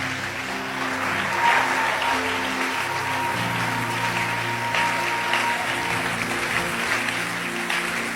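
A church congregation applauds steadily and evenly for the whole stretch, broad and continuous, with music and low sustained tones running underneath.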